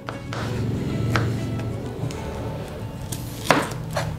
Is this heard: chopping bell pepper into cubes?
yes